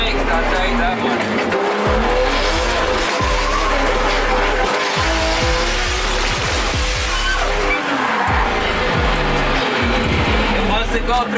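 Nissan S15 drift car with DCT transmission heard from inside on a ride-along, engine roaring and bouncing off the limiter while tires squeal and skid continuously, with excited voices over the noise.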